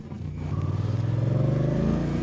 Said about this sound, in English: let's see if I can make you feel a little bit of driving just with the noise of the engine